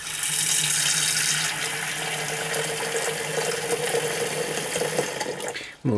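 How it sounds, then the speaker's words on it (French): Water pours into a white 1.0 L Bodum electric kettle, a steady splashing stream filling the vessel that gradually deepens in tone before stopping abruptly at the end. "Alors hop, on va mettre un peu d'eau."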